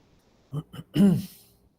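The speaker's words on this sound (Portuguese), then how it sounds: "Acho que foi esse cafezinho que deu um pigarro agora." Someone clears their throat up close: two short rough huffs followed by a longer, voiced rasp, then quiet.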